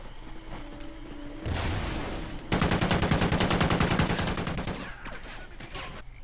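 Video game gunfire: a quick burst early on, then a long, loud stretch of rapid automatic fire that trails off into a few scattered shots near the end.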